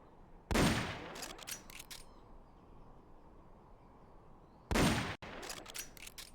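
Two short bursts of rapid gunfire in Metal Gear Solid: Peace Walker, each a loud volley of sharp cracks followed by a few trailing shots, separated by several seconds of quiet background.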